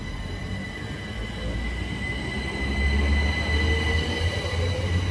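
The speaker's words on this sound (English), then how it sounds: "Departing out now is the 1348 Great Western Railway service from Didcot Parkway to London Paddington." A Great Western Railway service from Didcot Parkway to London Paddington pulls away from Goring & Streatley station, its low rumble growing heavier and louder over several seconds beneath a thin, steady electric whine.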